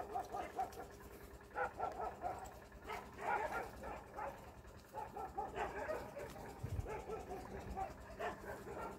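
A Malinois dog walks on a farm and lets out repeated soft whimpers and yips in short bursts, close by and fairly quiet, with a low thump near the end.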